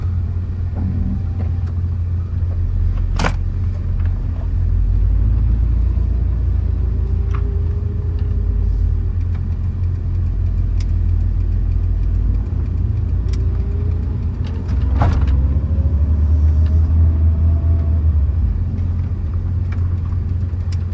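A 1998 Honda CR-V automatic cruising on a road, with a steady low engine drone and road rumble throughout and occasional small rattles from the cabin.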